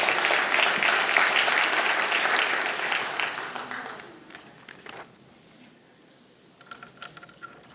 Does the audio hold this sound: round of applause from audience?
yes